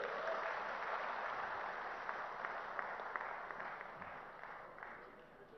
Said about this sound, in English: Can we have a bigger round of applause for the chief guest?